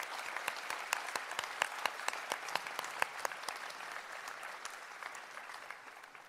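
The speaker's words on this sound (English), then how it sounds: "Let's give them a round of applause." Applause from an honors ceremony audience, with a few distinct sharp claps standing out near the start over a steady crowd patter that gradually fades, with no speech.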